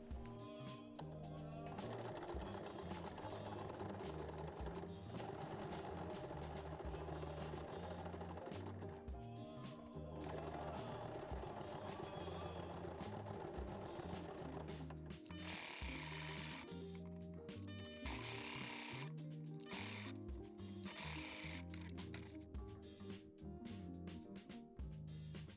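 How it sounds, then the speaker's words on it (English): A sewing machine stitches over earlier seams on a fabric glasses case, running in fast continuous bursts with brief pauses between runs, loud and close. "sew again on top of the stitches we just made, only on 2 sides"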